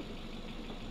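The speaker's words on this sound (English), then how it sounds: "this engine is running sweet" A 1.4 litre car engine idles in a steady, even low rumble, close and unbroken for a brief moment.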